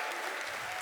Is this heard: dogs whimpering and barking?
no